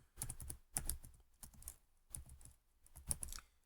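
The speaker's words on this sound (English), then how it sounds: "So I'm going to start typing my basic code for HTML5." Fast bursts of clicking keystrokes on a computer keyboard as HTML code is typed, rhythmic clusters of close, quiet taps with short pauses between them.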